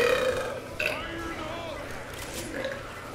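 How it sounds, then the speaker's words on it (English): A person burps loudly during Left 4 Dead 2 gameplay, several drawn-out croaking belches close to the microphone, mixed with game sounds and brief talk. "Hold on, let me burp"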